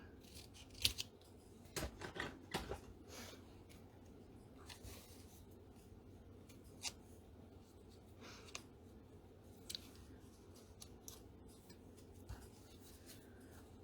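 Scissors cutting through card stock: a series of crisp, quiet snips and slides, irregular and close, with soft rustling between the cuts and no talking.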